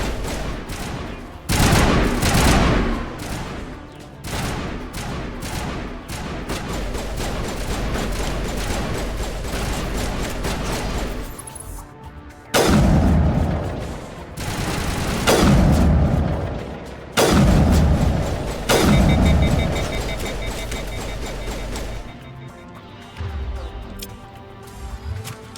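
Gunfire from the video game Mass Effect: repeated loud bursts and booming shots in clusters, with steady rapid fire between sharp heavy blasts, running almost continuously at close range.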